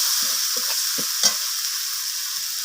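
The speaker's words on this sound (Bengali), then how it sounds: "আগে রসুন বাটাটাকে আমি ভালো করে কষিয়ে নিচ্ছি পেঁয়াজ আর টমেটোর সাথে" Garlic paste fries with onion and tomato in a pan, giving a steady close sizzle broken by several soft scraping stirs of a spoon.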